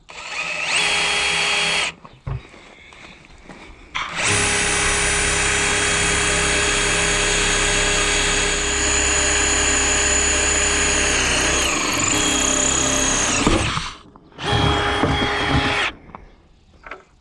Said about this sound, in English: my drill wasn't the sharpest, but it did work